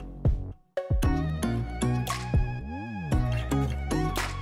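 A phone ringtone plays as a clear, melodic electronic tune, ringing on steadily with no answer and no talk over it.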